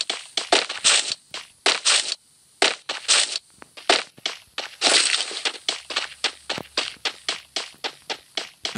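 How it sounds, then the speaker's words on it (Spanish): Rapid running footsteps in the Free Fire video game: a steady string of crisp, close thuds with brief pauses, continuing evenly throughout. "Aunque yo por aquí escuché pasos."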